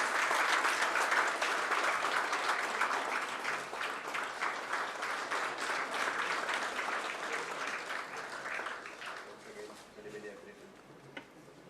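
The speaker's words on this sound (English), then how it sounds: "A round of applause, please." Audience at an ISTE annual convention at an engineering college in Goa applauds a felicitation: dense, sustained clapping that starts full and slowly thins out toward the end.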